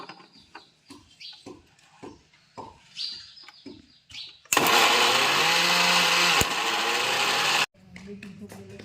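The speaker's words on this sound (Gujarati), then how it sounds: "ટમેટા મિક્સરમાં નીલેશભાઈ નાખી દીધા છે." A mixer grinder whirs loudly for about three seconds as it purees tomatoes for a Kathiyawadi gravy, with people talking and chirpy background sounds before and after the burst.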